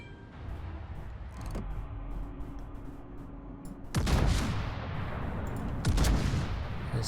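Heavy naval guns on a warship in World of Warships fire a loud, booming salvo, and a second salvo follows about two seconds later. Both roll out over a steady background of engine and sea noise.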